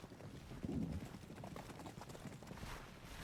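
Cavalry horses in the Grand Tactician: The Civil War game trot past with faint, scattered hoof clip-clops under a soft bed of wind.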